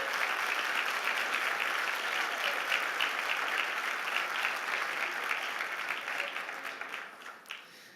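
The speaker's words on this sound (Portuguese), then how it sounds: "Então dê um aplauso ao Senhor Jesus." A church audience applauds in a steady wash of clapping, moderately distant and soft, gradually thinning and fading out near the end.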